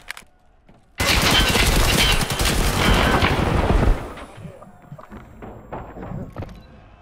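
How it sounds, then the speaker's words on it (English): SMG fire rattles in an online shooter game, a sustained loud burst of rapid shots lasting about three seconds, followed by scattered game sounds and a few separate shots. "Slow fire rate, dude. With an SMG."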